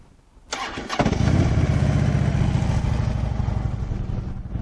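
A 2010 Harley-Davidson Road King motorcycle engine starts with a brief starter crank and catches into a loud, steady, rumbling idle, close up with no talk.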